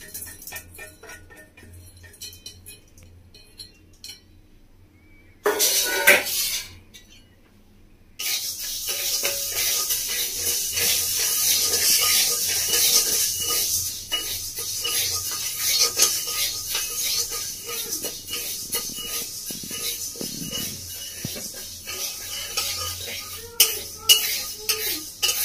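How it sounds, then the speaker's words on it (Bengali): Moong dal dry-roasts in a pan while a utensil stirs it, making a long run of close scraping and rattling with sharp clinks near the end and a brief quiet pause early on. "প্রথমে মুগের ডালটাকে একটু হালকা করে শুকনো করে ভেজে নেবো"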